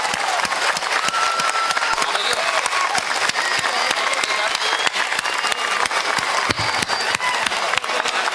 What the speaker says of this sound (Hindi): मैं चाहता हूं कि 30 सेकेंड तक तालियां गूंजे टीपू सुल्तान के लिए